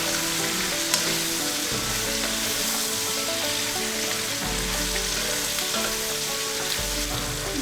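Cauliflower frying and being tossed in a pan, a dense close sizzle with bursts of tossing and clattering throughout, no voices.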